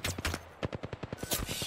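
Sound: gunfire from the video game Apex Legends

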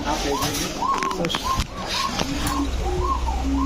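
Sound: pigeons cooing

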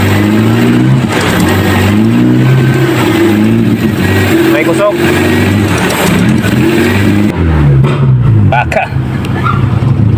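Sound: car engine revving with exhaust backfire

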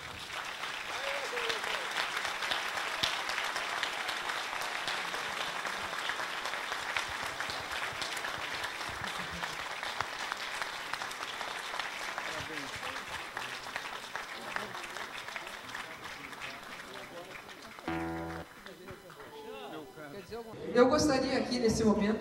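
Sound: audience applause at a concert

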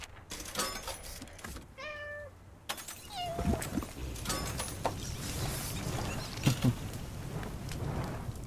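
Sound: cat meowing in the video game Little Inferno

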